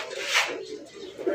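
Fancy crested pigeons coo briefly while being handled, a couple of soft close calls with faint rustling.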